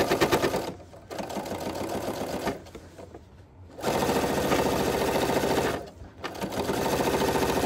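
A sewing machine runs a quilt seam along the fabric edge, about an eighth-inch in from it. It makes loud, close, rapid chattering in long bursts broken by short pauses.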